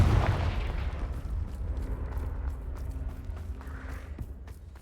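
A Confringo blasting spell explodes in the video game Hogwarts Legacy, a loud booming burst at the start that rolls off into a low rumbling tail with scattered game effects.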